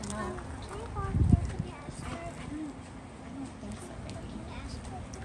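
Horse hooves clip-clop at an equestrian center, a few soft, muffled clops close by, mostly under people talking.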